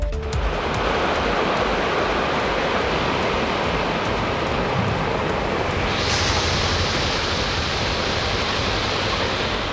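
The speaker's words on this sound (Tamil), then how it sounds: "இதையடுத்து பிற்பகலில் கொட்டி தீர்த்த மழையால் சாலைகள் வெள்ளக்காடாக மாறின" A heavy afternoon downpour floods the roads, producing a loud, unbroken roar of rain and rushing water that holds steady from start to end, close and with no voices.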